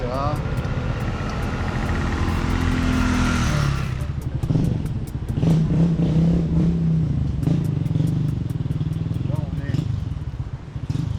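Scooter engines rev and clatter close by on a street in the Dominican Republic, a steady mechanical roar with voices talking underneath.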